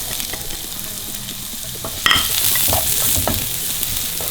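Ginger and garlic dropped into hot oil in a wok for a chicken stir fry, the quiet hiss jumping to a loud, steady sizzle, with brief scraping stirs.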